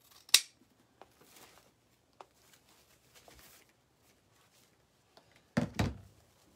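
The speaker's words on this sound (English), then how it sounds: "I'm just gonna trim off the tails" Scissors snip through ribbon tails on a DIY daisies and butterflies wreath, a few sharp close cuts separated by quiet handling, ending with a louder double snip.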